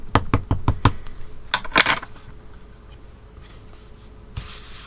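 A clear rubber stamp being inked for stamping a dress design, heard as a quick run of about five sharp dabbing taps, then a brief scuffing rub and a single later tap, close up with no talk.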